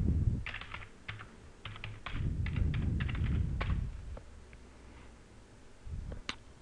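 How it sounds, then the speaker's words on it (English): Keys clatter on a computer keyboard in uneven bursts as a username and password are typed into a website login for a DNN content management system, fairly close and alone with no talk. "Type in the username and password."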